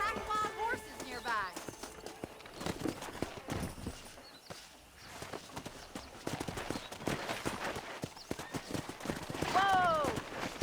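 Wild horses in Red Dead Redemption, hooves clip-clopping in a steady run with a whinny near the end, heard amid game ambience and occasional talk.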